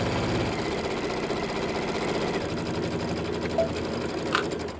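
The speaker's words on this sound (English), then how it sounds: "You could also make your stitch length longer right there. Just get through that part a little bit quicker." A sewing machine runs steadily while stitching a quilted table topper, a fast close mechanical chatter with an even rhythm throughout and a couple of small clicks near the end.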